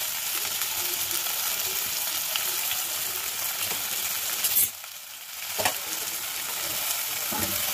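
Onions and okra (bhindi) with salt frying in a pan, with a dense, steady hiss of sizzling throughout, a brief dip midway, and a few stirring scrapes, close and continuous, no talk.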